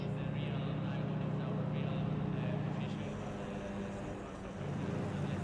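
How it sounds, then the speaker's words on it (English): Engines of GT4 cars in a sim racing game rumbling into life, including the idle of a V12 Aston Martin, a dense steady low drone throughout with a voice talking over it. "So you can hear the cars beginning to come into life now."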